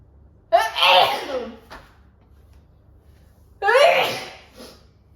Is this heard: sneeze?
yes